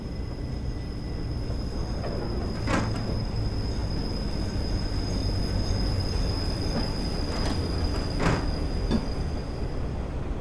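London Underground 1938 stock train pulling in within Train Simulator Classic, a steady rumble of wheels on rail with sharp squealing bursts and a constant high electrical whine, close and loud throughout.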